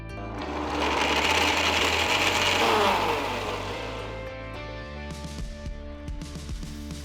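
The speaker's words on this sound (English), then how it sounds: "add the soaked pistachios along with the milk and saffron to a mixer jar and grind it to a" An electric mixer grinder whirs loudly as it grinds soaked pistachios with milk and saffron into a paste, a steady high motor whine that swells, then eases into a lower churning hum with some rattling.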